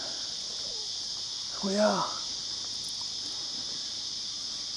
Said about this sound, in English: That's the cicadas you can hear, by the way.